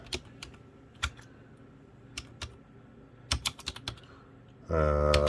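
Scattered clicks of keys being tapped on a cheap wireless computer keyboard, irregular and sparse, followed by a steady electronic hum at the end.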